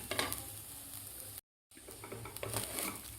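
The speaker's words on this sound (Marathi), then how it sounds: "एक मिनिटभर आपल्याला हे ओला नारळ तांदळाबरोबर व्यवस्थित परतून घ्यायचं आहे।" Grated fresh coconut is stir-fried with rice in a pan for narali bhaat, giving a soft sizzle under gentle scraping strokes, broken by a brief moment of total silence partway through.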